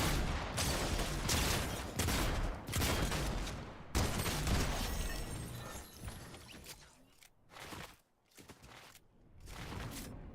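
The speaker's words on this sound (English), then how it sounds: "Auto shotguns. I got the Maven auto and the twin fire." Auto shotgun fire in Fortnite from a Maven auto shotgun and a Twin Fire shotgun: dense, loud bursts of rapid blasts come in several clusters, with short breaks and quieter gaps between them and no talking.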